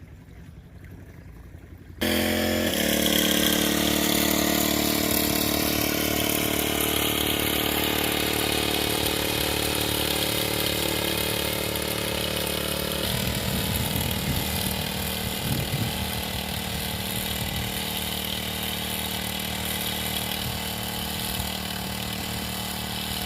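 A small motorized pesticide sprayer pump engine runs continuously nearby, a steady droning hum that holds unchanged throughout with no voices.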